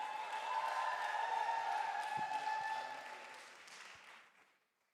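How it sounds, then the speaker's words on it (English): An audience at a youth convention applauds a speaker. The clapping is moderately loud, tapers off toward the end and fades out, with a faint steady tonal hum running underneath. "Let's give her a round of applause."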